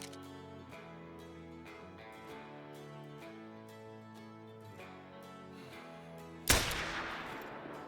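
A single loud rifle shot rings out at a buck in the hunting game Call of the Wild, bursting sharply over steady background music and trailing off in a brief echoing decay.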